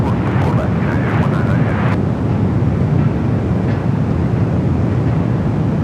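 A KLM Boeing 787 Dreamliner lands at Los Angeles LAX airport, heard as a steady, loud broadband jet roar with rushing wind noise that holds evenly throughout.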